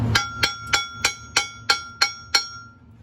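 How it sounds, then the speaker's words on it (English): Eight sharp metallic taps in a steady rhythm, each ringing briefly, as a slag hammer chips slag off an arc weld, up close with no talking. "we're going to hit it with the slag hammer"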